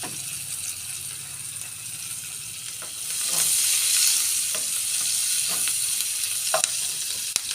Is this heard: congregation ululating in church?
no